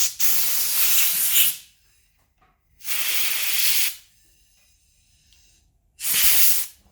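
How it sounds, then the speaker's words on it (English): Compressed air blown off Ducati 900SS Supersport motorcycle grips, three loud close hissing blasts of about a second each with quiet gaps between them. "I'll blow them off with compressed air"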